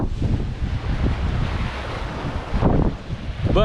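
Ocean waves and strong wind roar continuously around a sailboat rolling along the California coast, a dense, loud wash of buffeting gusts and surging water with no voices.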